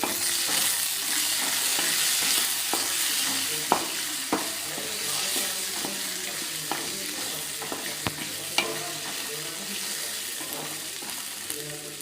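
Cooking oil poured into a hot pan on a home stove while making dosakaya pachadi, a steady close hiss of frying with scattered sharp clicks of utensils, no voices.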